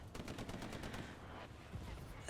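Sustained burst of strafing gunfire during a competitive console match of Hell Let Loose, dense rapid rounds rolling continuously with heavy low rumble, loud and close throughout.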